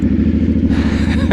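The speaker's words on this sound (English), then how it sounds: "it sounds good. A little twin cylinder engine." A 2024 Yamaha R7 twin-cylinder motorcycle engine idles loud and close after starting, with a steady low throbbing pulse and an aftermarket exhaust burble, rising slightly near the end.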